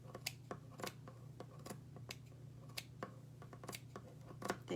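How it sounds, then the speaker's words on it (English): Scissors snip through fabric in a series of quiet, crisp cuts at an irregular pace, about a dozen close clicks while the inside of a circle is cut from a craft piece, with no talking. "and then I can use my scissors to just finish cutting"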